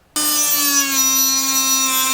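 A power tool cuts a notch for the downpipe and wastegate dump tube in a DevSport front splitter for a turbo Honda CRX, giving one steady, loud, whining cut that starts abruptly and runs unbroken for about two seconds.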